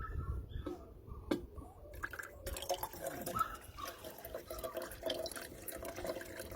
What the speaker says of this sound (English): we're ready to pour out the rinse water